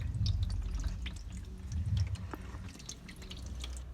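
Old engine oil drains from a 2006 Porsche Cayman S, a steady trickle with scattered drips and splashes, close and fairly quiet, with low rumble beneath and no talk.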